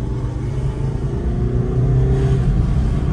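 A Mercedes A-Class diesel engine while driving, heard as a steady low cabin drone and rumble with a faint rising tone, continuous and fairly loud with no talk.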